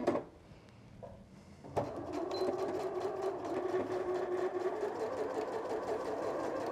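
A Janome sewing machine stitches a double-pointed dart, whirring steadily and close after a few handling clicks at the start.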